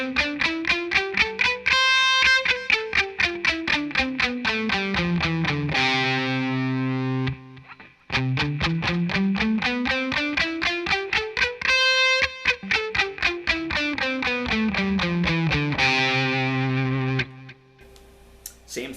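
Distorted electric guitar runs a major scale up and back down in one fingering, then repeats it in a second fingering, each run of rapid even single notes ending on a held note, loud and close with no talk.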